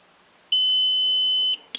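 A single long electronic beep from an RCBS ChargeMaster Link powder dispenser scale, high-pitched and steady, lasting about a second against near silence, followed by a faint click.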